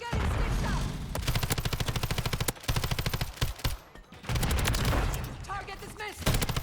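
The Kastov LSW light machine gun in Modern Warfare III fires long rapid bursts of sharp, evenly spaced shots with brief pauses between them. Someone talks over the gunfire.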